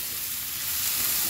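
Samosa filling sautés in a hot pan with a steady, close sizzle and crackle of frying, dry toasting with no liquid added.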